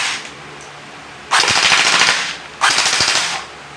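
An M4 CQB airsoft toy gun fires two loud, close bursts on full automatic, each a rapid mechanical rattle lasting over a second, separated by a short pause.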